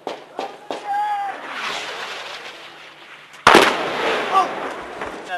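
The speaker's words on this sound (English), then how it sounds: "We got airburst 200 meters" Airburst explosions sound during combat in Afghanistan, sharp blasts and cracks with one heavy close detonation midway, amid rumbling background noise and shouting voices.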